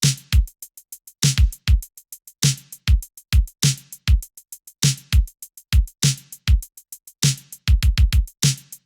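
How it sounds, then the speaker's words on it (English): A retro city pop drum pattern built from kick, snare and hi-hat repeats in a tight, punchy loop, the sharp hits evenly spaced and loud, with no voices over it. "We'll make a simple drum pattern that sounds like this."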